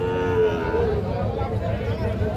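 A Sahiwal bull calf about six to seven months old gives a drawn-out moo close by at a village cattle market, the call lasting about a second over a busy background of crowd chatter.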